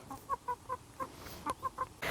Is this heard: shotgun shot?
no